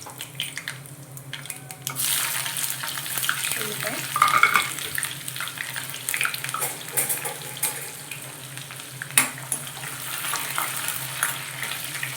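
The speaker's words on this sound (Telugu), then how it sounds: "కరివేపాకు, ఉల్లిపాయలు వేయించుకుంటూ బీరకాయ వేస్తున్నా." Curry leaves and chopped onions sizzle in hot oil as ridge gourd goes into the pan, a steady close crackle broken by scraping stirs and small clinks.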